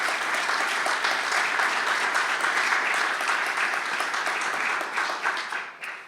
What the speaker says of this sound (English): Round of applause for all these wonderful folks.